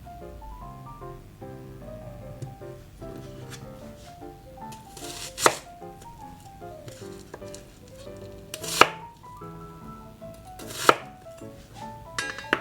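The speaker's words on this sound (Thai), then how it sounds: "หัวหอมหั่นชิ้นพอดีคำ" A knife chops an onion into bite-size pieces on a cutting board in scattered strokes, a few landing loud and sharp, over soft melodic background music.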